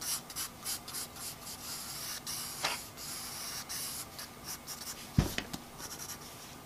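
Pencil sketching reference lines on the back of a sheet of paper for a mask design, soft scratchy strokes in short bursts with a sharper tap near the end, quiet and close.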